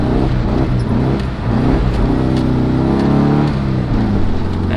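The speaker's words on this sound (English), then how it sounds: "That was a nice drift, a little action there." A car engine revs loud and close while drifting around a turn, its pitch rising and falling through the slide with steady tyre and motor roar.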